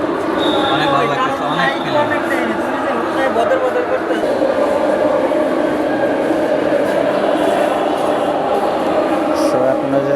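A Bangladesh metro rail train passing, a steady loud rumble and whoosh of the rail cars lasting throughout, with crowd chatter mixed in nearby.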